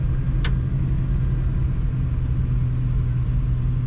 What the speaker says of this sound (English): We're gonna get up to speed and see what she sounds like, and I already know that this car sounds great.